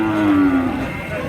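A heifer at a village cattle market lets out one loud, near moo that slides downward and fades, with a murmur of the market behind it.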